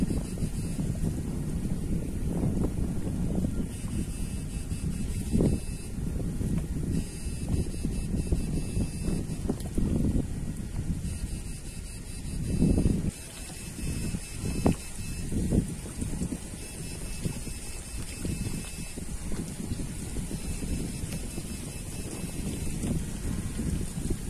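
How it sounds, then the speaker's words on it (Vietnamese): Strong wind buffets the microphone outdoors at a fishing spot in open marshy land, a continuous loud rumbling roar with gusts swelling and dipping for the whole stretch, no talk over it. "quá trời gió"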